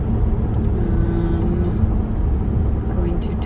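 A 2007 Nissan Maxima cruising smoothly on the road produces a steady low engine and road rumble throughout, with a voice talking over it.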